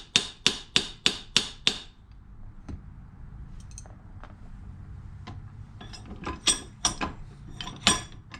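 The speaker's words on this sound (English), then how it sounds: "So then what I do is hammer out the plug a little bit" Sharp metallic hammer strikes, a quick run of six evenly spaced blows, then scattered lighter taps and clinks over faint background noise, as a metal plug is hammered to mushroom it out, on a Rolls-Royce Springfield Phantom I valve rocker.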